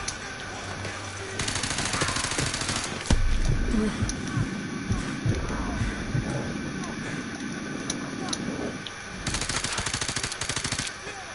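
Automatic gunfire in the Call of Duty Modern Warfare 2 Remastered campaign: steady bursts and rattling shots at mid-distance beneath a constant windy, engine-like background, with a voice speaking over it.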